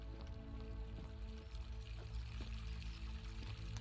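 Fountain water pours steadily in the video game The Forgotten City, a continuous splashing wash with faint ambient tones underneath, heard close and alone.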